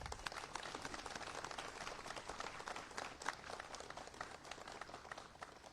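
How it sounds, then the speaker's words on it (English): Applause from the audience at Texas Governor Abbott's economic development announcement in Austin, a steady, dense patter of many hands clapping, fairly faint and distant, with no clear talk over it. "please give them a big round of applause"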